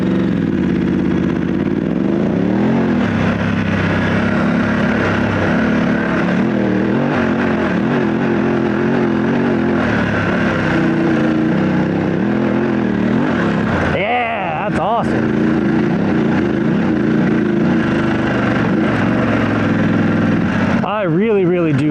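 A motorcycle engine on Motoz Tractionator adventure tires climbing a short hill, a steady mid-pitched drone that rises and falls with throttle, close and continuous throughout, with a brief dip midway.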